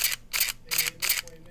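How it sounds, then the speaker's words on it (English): A Contax RTS professional film SLR fires its shutter, giving a quick series of crisp, close mechanical clicks in an otherwise quiet setting. "You can hear it in the sound of the shutter."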